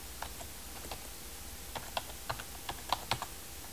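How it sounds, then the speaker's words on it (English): Keys on a computer keyboard being typed in short, uneven bursts of light clicks, close and fairly quiet, while text goes into a Word 2010 document. "I am going to type the word table"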